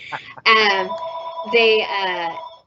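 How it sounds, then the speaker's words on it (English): A telephone rings during a training session, two loud warbling electronic ring bursts separated by a short pause, with a faint voice just before the first ring. "My phone rings in the middle of training."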